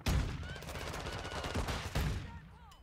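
Gunfire from a Bryson 890 shotgun in Modern Warfare 2 gameplay: heavy booming blasts at the start and again near two seconds, with rumbling game noise and chatter between them.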